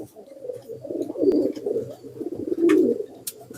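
A male pigeon coos in a steady low rolling burble, swelling into two louder bursts, close and clear with a faint chirp near the end.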